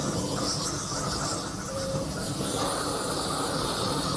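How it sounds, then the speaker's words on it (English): Flame torch hissing steadily at close range over bacon crisping on a barbecue grill, a continuous broadband rush that holds without a break. "So we're just going to take a little bit of flame and give it a little bit of BTUs"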